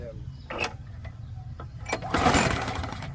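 A lawn mower engine is pulled over with its recoil starter cord, giving a few short mechanical tugs and brief sputtering bursts, then a louder rattling catch toward the end, close by.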